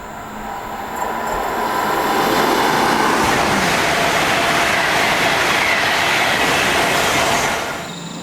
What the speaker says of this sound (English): you can get pretty close up to trains that are going fast